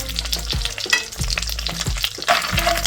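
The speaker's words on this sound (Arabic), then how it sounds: "بنحمر اهو في المكسرات" Mixed nuts fry in about three spoons of butter and a spoon of olive oil, a steady close sizzle broken by a few rhythmic scraping stirs of the spoon through the pan.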